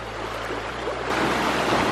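Creek water rushing along a hiking trail near Pai on the Mae Hong Son Loop, a steady broadband wash that swells louder partway through, close by with no voices.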